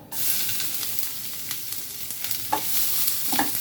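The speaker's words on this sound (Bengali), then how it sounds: "এবার পেঁয়াজ কুচি রসুন কুচি আর কাঁচামরিচ দিয়ে দিব" Chopped onion, garlic and green chilli hitting hot oil with dried red chilli and black cumin for a kalmi shak stir-fry, a loud close sizzle with steady hiss and a couple of soft stirring knocks, no talk.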